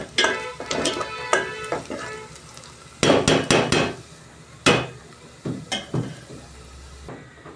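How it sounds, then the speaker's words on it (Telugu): Onions roast in a pan for curry as a spoon stirs and scrapes them in repeated bursts, sharp metallic scrapes and knocks over a faint sizzle, loud and close. "ఉల్లిపాయలు బాగా రోస్ట్ అయిపోవాలండి."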